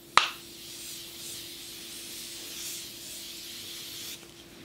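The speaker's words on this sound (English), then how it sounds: "to set everything down, I'm gonna go in with this Morphe mini spray." A Morphe mini setting spray is pumped once with a sharp click, followed by a soft, steady mist hiss lasting about four seconds before it stops.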